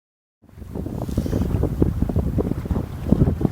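Wind blowing hard across the microphone on a sailboat on Loch Fyne, a sudden, steady gusty rush with low rumbling buffets and some water noise, starting after a moment of silence and continuing without talk.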